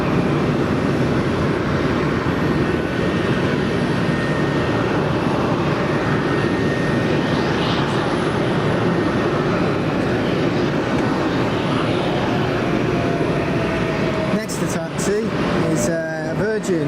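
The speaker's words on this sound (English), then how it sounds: "It's the 330 from Atlanta." An Airbus A330 airliner arriving from Atlanta at Manchester Airport, with a loud, steady jet roar that holds for the whole stretch and some brief talk near the end.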